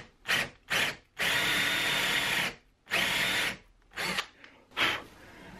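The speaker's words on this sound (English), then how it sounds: "I'm just drilling down far enough that the washer and the head of this bolt will be sunk in there." A power drill with a Forstner bit bores into a wooden 2x4 in several bursts, one long sustained run among shorter pulses, each stopping abruptly with brief pauses between.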